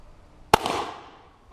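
A single sharp shotgun blast from a Ranger lever action shotgun loaded with a buck and ball shell (slug plus three buckshot), a loud close report with a short decaying echo afterward.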